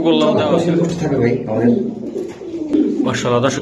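Racing and Damascene pigeons sold in pairs with young coo repeatedly close by, their soft throaty calls running under steady conversation between men.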